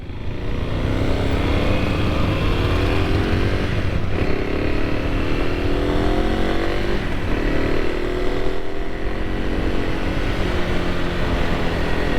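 A Kawasaki KLX 300 supermoto motorcycle runs steadily while being ridden, its engine droning loud and close throughout with rising and falling pitch as the rider shifts and changes speed.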